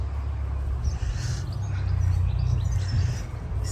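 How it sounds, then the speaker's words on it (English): Birds chirp and tweet faintly in a garden after rain, their thin calls scattered over a steady low rumble of outdoor background noise. "Can you hear all the birds?"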